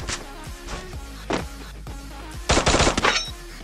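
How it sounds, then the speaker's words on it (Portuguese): Gunfire in the Free Fire video game from two players shooting, with scattered single shots followed by a loud, rapid burst of automatic fire near the end. "Dois caras atirando em mim, doido."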